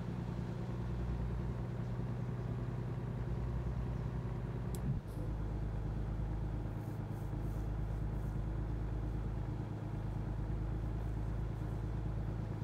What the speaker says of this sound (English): I'm not watching the tach, I'm listening to the motor.